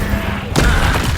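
A Descendo spell slamming down in Hogwarts Legacy combat, a single heavy thudding impact that hits sharply about halfway through over a steady low rumble.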